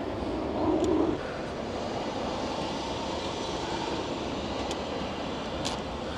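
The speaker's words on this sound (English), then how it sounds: "I've got a big ass plane going over, literally at the same time." A large airplane passes overhead, a loud, steady broadband roar that fills the whole stretch, with a brief swell near the start.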